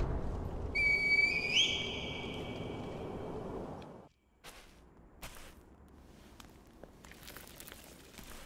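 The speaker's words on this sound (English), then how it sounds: "Call the divine air with the reed whistle." Reed whistle blown in Sekiro to summon the divine air, a bright sliding whistle tone rising near the end, over wind-like rushing, then quieter game ambience with scattered soft thuds.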